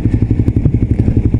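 Suzuki GSX-R125 motorcycle engine running while being ridden, a close, loud, steady thrumming pulse with rapid even firing beats and a faint mechanical clatter on top.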